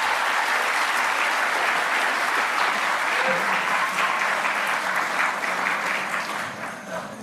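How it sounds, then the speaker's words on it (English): An awards ceremony audience at the DICE Awards claps in sustained, dense applause throughout, loud and even before tapering slightly at the end. "And please, a round of applause for them."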